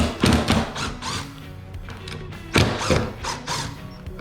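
A clamp is handled and tightened for gluing a guitar body, giving a run of squeaky, ratcheting creaks and knocks in two bursts separated by a quieter pause.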